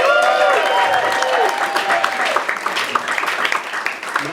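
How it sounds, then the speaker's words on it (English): An audience bursts into loud, sustained applause with cheering, a dense wash of clapping that stays strong throughout. "Let's get a round of applause for America."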